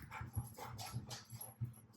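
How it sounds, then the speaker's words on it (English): Dogs whimpering and panting indoors nearby while someone ties a fly at a bench, with soft rhythmic breathy pants and thin whines repeating quietly over about two seconds. "Never mind the dogs."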